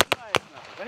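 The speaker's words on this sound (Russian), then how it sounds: "Вот, проводятся учебные стрельбы." Sharp gunfire bangs from military training with RPG-7 grenade launchers and standard service weapons, three loud reports in quick succession with echoing tails, a voice faintly talking underneath.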